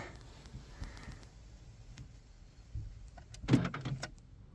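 A Smart car converted into a tiny camper is locked, with a faint whirring motor and a soft thud early on, then a sharper cluster of clicks and a clunk near the end, quiet and close.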